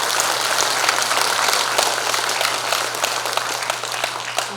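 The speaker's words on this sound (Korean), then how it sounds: "우리 박수 한 번만 보내주십시오." A party convention audience applauds steadily, a dense close wash of many hands clapping that holds evenly throughout with no voices on top.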